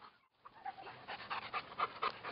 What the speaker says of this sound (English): the dog is kind of pulling wherever he wants